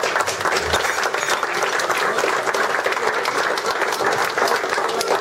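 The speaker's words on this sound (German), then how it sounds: "Und da klatschen wir es einmal," An audience at a music club's year-end party claps in dense, sustained applause, loud and even throughout.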